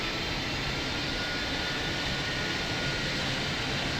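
Aircraft engine roar in the Roblox game Pilot Training Flight Simulator, a steady broadband jet-like rumble holding at constant loudness throughout, with no voices.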